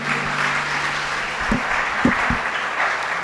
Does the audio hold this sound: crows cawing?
no